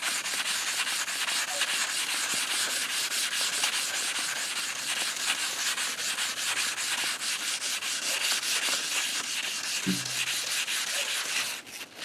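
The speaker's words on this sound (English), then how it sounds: "I'm just going to rub it lightly." A piston skirt being lightly rubbed smooth with abrasive gives a continuous close sanding hiss for about eleven seconds, with a faint knock near the end.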